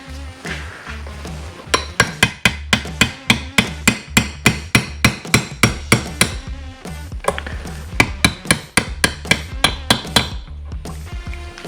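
A hammer taps a part into a Yamaha YFZ450R engine case during a bottom-end rebuild, striking in a long, steady run of sharp metallic blows, close and loud, with a brief pause partway through.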